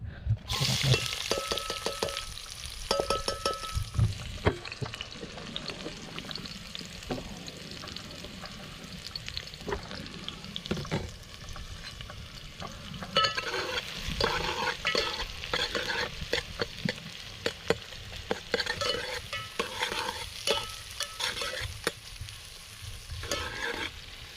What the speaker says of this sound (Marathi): आता मस्त की आपल्या कांद्याने फ्राय झालेत